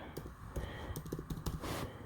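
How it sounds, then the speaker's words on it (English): Keys on a computer keyboard are tapped with one hand in short, uneven bursts of close, soft clicks, with a quiet pause partway through. "I'm typing with one hand."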